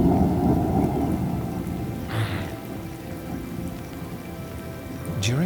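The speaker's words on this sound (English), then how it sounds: "complete with summer rains." Steady summer rain pours across the open savanna, a dense continuous hiss with a brief rumble of thunder partway through, no voices.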